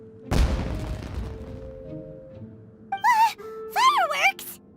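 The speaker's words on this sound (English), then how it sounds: "Was that an explosion? It sounded like fireworks." Fireworks burst in the Genshin Impact video game: one sharp boom with a crackling, fading tail, followed later by animated character voices talking.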